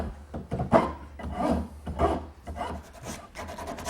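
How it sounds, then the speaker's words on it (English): A Magic Cut rasp file shapes a wooden part for a Windsor chair in steady rough strokes, about two per second, each a grainy scraping rub, close up and with no talking. "Now this is where my Magic Cut file comes in. Now we want to just shape this a little further, make it a little bit smoother."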